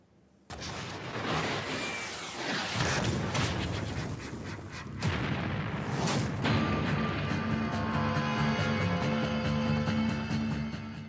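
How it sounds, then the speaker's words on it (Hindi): Missiles launched during a Chinese military exercise in the South China Sea: a loud, continuous roaring blast with heavy rumbling that surges again midway and then settles into a sustained roar, with no voices. "साउथ चाइना सी में 4 मिसाइलें भी दागे"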